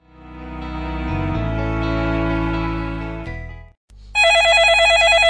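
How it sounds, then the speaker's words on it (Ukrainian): A telephone bell rings in a long sustained burst, pauses briefly, then rings again loudly and steadily, with no voices. "Довго телефон дзвонів."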